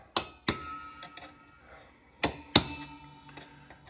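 A small hammer taps a raised guitar fret down into its slot, four sharp metallic taps in two quick pairs with a faint ringing decay after each, close and otherwise quiet.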